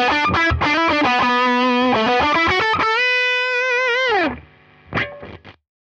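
A heavily overdriven electric guitar through a Tone King Imperial MKII amp's lead channel plays a sustained lead line, notes bending and holding with thick distortion, then a final short stab fading out.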